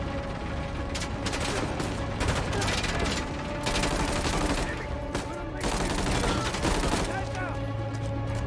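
Shotgun blasts come in a burst of loud, booming shots with mechanical clacks between them during Uncharted: The Lost Legacy combat aboard a train, over a constant rumbling background.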